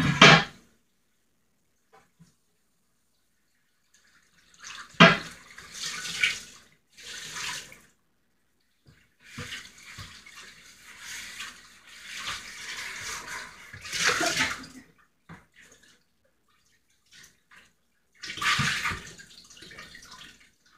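A mixing bowl rinsed under a running kitchen tap at a campsite, with intermittent bursts of water splashing into the bowl and sink separated by silent pauses, close and moderately loud.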